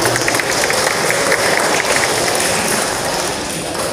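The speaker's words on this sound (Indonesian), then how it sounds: "mari kita aplaus dan tepuk tangan kepada pengurus dan pengawas" Members at a cooperative's annual meeting clap for the board and supervisors, a loud, dense, continuous round of applause from a crowded room, steady throughout.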